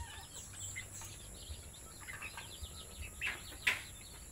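Faint, soft clucks come from a Texas breed hen among other quiet bird chirps, with scattered short calls and one brighter peep near the end over low background noise.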